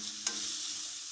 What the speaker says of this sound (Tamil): கொத்தமல்லி தழை போட்டுட்டு நல்லா கலந்து விட்டு ஆஃப் பண்ணிடலாம்